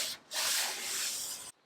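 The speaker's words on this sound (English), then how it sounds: "sanding the whole thing inside." A steady, loud gritty rasp of sandpaper rubbing on wood inside a 1930s sideboard, one long continuous stroke after a brief pause, then it stops.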